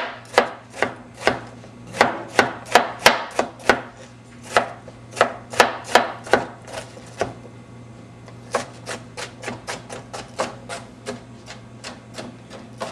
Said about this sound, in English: I'm chopping it as small as possible because we're going to put it in a blender.